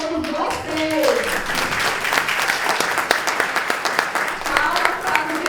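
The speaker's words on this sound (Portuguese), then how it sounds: "Então, gente, palmas para todos vocês!" An audience at an academic round-table session claps together in a sustained, fairly close round of applause, with sharp individual claps standing out and a voice heard briefly near the start.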